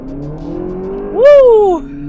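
A 2025 Lexus TX 500h hybrid accelerating, its engine note rising into a bright whining surge for about half a second, then easing off, heard close and loud from inside the car.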